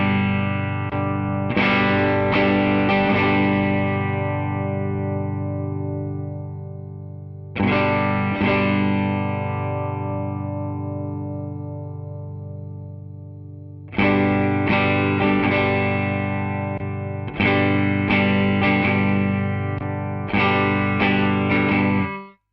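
Electric guitar through a Mesa Boogie Lonestar amp on the drive channel with reverb off plays loud distorted chords in several strummed bursts, each ringing out and decaying before the next.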